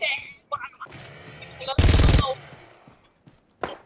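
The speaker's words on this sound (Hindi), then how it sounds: "मशीन गन है" Machine gun fire in the PUBG Mobile zombie survival mode, a short loud dense burst of rapid shots set among scattered game noises and brief clicks.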